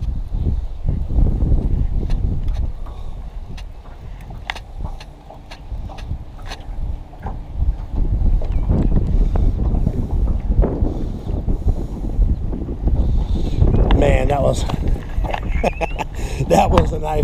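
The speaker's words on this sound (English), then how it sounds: "Sorry about the wind." Strong wind buffets the microphone on a fishing boat on open water, a constant heavy low rumble with gusts rising and falling, plus faint creaks and light handling noises near the end.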